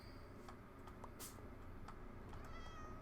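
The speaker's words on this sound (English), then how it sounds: "My, you meow an awful lot." A Minecraft cat meows repeatedly in a sandstone desert setting, several short, fairly faint mews spaced through the clip over a steady low background hum.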